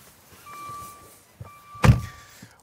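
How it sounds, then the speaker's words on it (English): A 2023 Maserati Levante's frameless car door unlatches with a single firm thunk and click, near and clear, in an otherwise quiet space. "let's open this frameless door and take a look"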